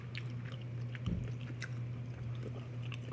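Crunchy fire noodles with enoki mushrooms are chewed close to the mic in soft, steady bites with small crunches over a low hum.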